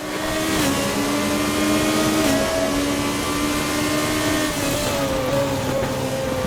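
Formula 3 and Formula 4 single-seater race cars in a racing video game, engines droning loud and steady with rising and falling gear-change pitches as several cars run together, no talking.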